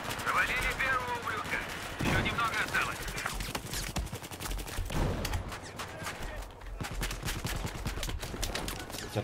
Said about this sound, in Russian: АУК хорошая винтовка для стрельбы на средней и дальней дистанции